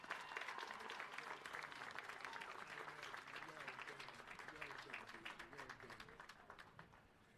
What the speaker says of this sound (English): Another round of applause for our student speakers